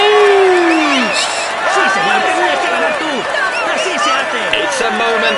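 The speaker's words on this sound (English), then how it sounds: "Come on, let's applaud him once more." Crowd cheering and applauding at a Tour de France 2022 stage finish in the racing game, a dense steady roar with whoops and whistles, and a commentator talking over it throughout.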